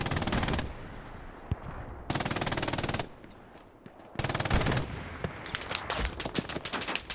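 Machine gun fire from a fixed MG position in the Hell Let Loose Omaha Beach battle: sustained loud automatic bursts separated by short pauses, with distant gunfire and battlefield noise filling the gaps.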